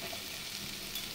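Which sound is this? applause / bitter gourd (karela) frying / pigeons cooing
bitter gourd (karela) frying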